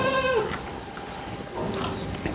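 A single loud, wavering bleat from a large champion breeding buck goat, heard close at the start and fading into quieter farmyard background.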